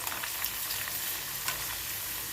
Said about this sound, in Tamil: இந்த சலசலப்பு அடங்கணும்